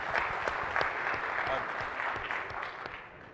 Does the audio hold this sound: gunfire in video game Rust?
no